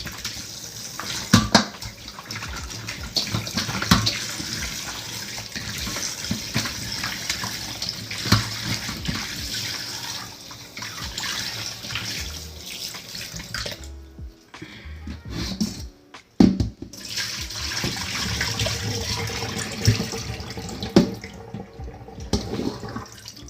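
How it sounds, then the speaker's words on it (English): Tap water runs steadily over raw goat meat being rinsed clean of lemon juice, a continuous splashing wash with a few brief pauses and knocks partway through. "now you're gonna pretty much clean off all that lemon juice off the meat"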